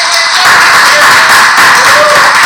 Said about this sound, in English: the crowd comes alive with the spin of the wheel